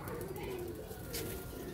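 Pigeons, kept flying and fancy birds, coo in soft, low repeated calls close by, with a person talking over them.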